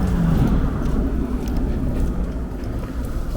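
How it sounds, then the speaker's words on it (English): Cars and trucks pass on 96th Street in New York City's Upper West Side as a loud, continuous low rumble of traffic with wind noise, heard close from the sidewalk. "And you will see trucks and cars fly right through here."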